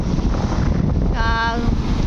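Cold wind blows straight into the microphone outdoors just after rain, a steady low buffeting rumble that fills the whole moment, with a brief faint tonal sound partway through.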